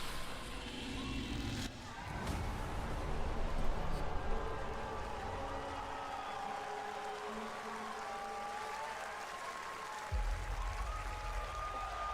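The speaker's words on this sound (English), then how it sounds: "Crowd's going nuts" A live crowd at the Capcom Spotlight showcase cheers and applauds after the Resident Evil Requiem trailer, a dense, sustained wash of clapping and shouts heard from a distance.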